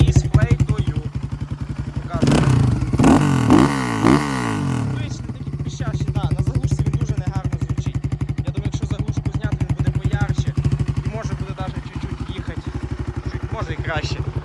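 A KOVI 300 LITE R motorcycle engine with a flute exhaust rumbles and revs up near the listener, surging loudly for a few seconds before settling into a steady idle with clatter.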